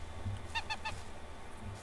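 Sheep in the medieval farming game Medieval Dynasty bleat in a short wavering call of three quick pulses, moderately near over a low background hum.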